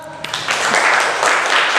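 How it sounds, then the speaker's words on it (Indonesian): Classroom applause for a group presentation, a short swell of clapping from students that rises quickly after a brief voice and holds steady. "Baiklah, tepuk tangan."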